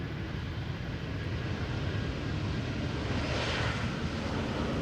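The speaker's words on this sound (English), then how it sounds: "Here we have Welling arriving from Barcelona in the Visit Tenerife livery" A Vueling airliner arriving at Amsterdam Schiphol, a steady broadband engine roar with wind rumble, fairly loud and constant throughout; no talking.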